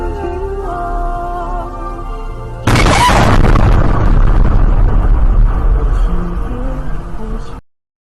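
A gas explosion at a fried chicken shop in Yanjiao early in the morning, recorded on a phone or dashcam: a sudden, very loud blast follows a steady background hum and becomes a sustained roaring rumble for several seconds before cutting off.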